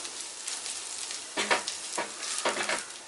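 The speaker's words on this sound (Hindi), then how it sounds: "फ्यू सेकंड मसाले को भून लेते हैं।" Spice powders such as chilli, coriander-cumin and turmeric briefly roasting in a pan for quinoa vegetable pulao, giving a soft steady sizzle with a few louder stirring scrapes, close and alone.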